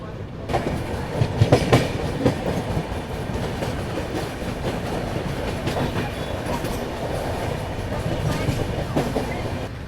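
Swatantrata Senani Express rolling slowly toward Aligarh, with steady clickety-clack of wheels over rail joints and a continuous rumble of carriages, heard close from on board, with a few louder knocks early on.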